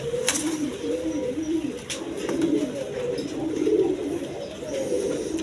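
A pair of colored Rajgolla pigeons keeps up continuous throaty cooing, repeated rolling phrases close by, with occasional sharp clicks or wing rustles and no voices.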